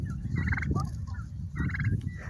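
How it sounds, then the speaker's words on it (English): Turkeys gobble loudly in two rippling bursts on a farm, with more birds calling nearby over a low rumbling background. "But these are our turkeys, and they're very sweet."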